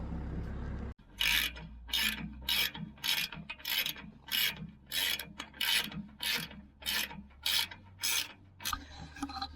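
A ratchet wrench cranks steadily in about a dozen even, rhythmic strokes, tightening bolts on the beam of a lean-to. It sounds close and clear over a low background hum, and nobody speaks.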